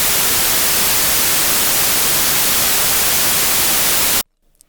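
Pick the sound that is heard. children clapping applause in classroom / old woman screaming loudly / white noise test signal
white noise test signal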